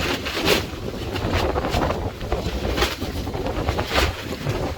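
Wind blows steadily across a beach, a continuous rushing breeze with gusty swells and buffeting against the microphone, loud and close, with no talk.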